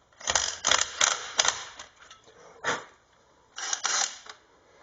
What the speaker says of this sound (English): I can't hold this shaft and do up the nut at the same time.